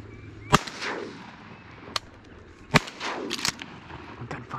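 Shotguns fire several sharp, loud blasts at uneven intervals while hunting teal ducks in shallow water outdoors, with brief echoes trailing each shot.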